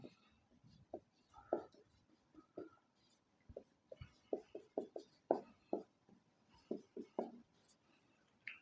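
A marker or chalk writes on a board during a chemistry lesson, giving quiet, scattered squeaky strokes in irregular bursts with pauses between them.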